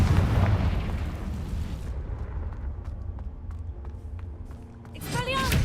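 A loud Confringo blasting spell explosion in Hogwarts Legacy booms and rumbles at once, fading over a few seconds with scattered debris crackle, before a sharp new burst near the end.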